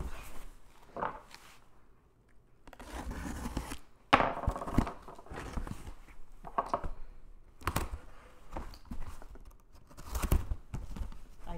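A knife slicing and tearing through a very large cardboard box, with bursts of scraping, ripping cardboard and handling thumps coming in uneven spurts, close and moderately loud, with no voices.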